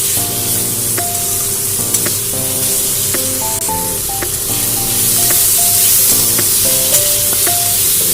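Prawns and potatoes frying lightly with turmeric and salt in a pan give a steady, soft sizzle under constant background music.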